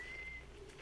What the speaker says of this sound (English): So we're 58 meters away from a guy whistling right now.